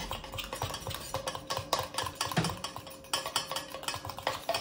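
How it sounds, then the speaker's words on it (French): A homemade natural roll-on deodorant mixture whisked steadily in a bowl while oil is slowly added, producing rapid, continuous rhythmic scraping and clinking close by, with no voices. "On ne cesse pas de mélanger, on rajoute l'huile tout doucement."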